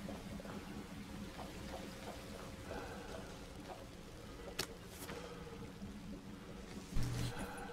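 Faint liquid chemicals rush and trickle steadily down a drain in the We Happy Few game, with a few small splashes and clanks near the end.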